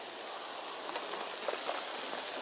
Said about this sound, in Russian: О, да дождь такой, ливень прям.